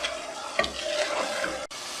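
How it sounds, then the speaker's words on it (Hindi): Fried okra stir-fried with chicken in a pan over a high flame, a soft steady sizzle with a few light scraping stirs, close and fairly quiet. "फ्लेम को हाई करके इसे थोड़ा सा भून लेंगे।"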